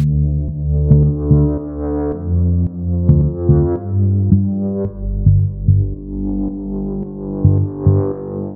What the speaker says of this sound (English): That sound is created by blending three different synthesized instruments.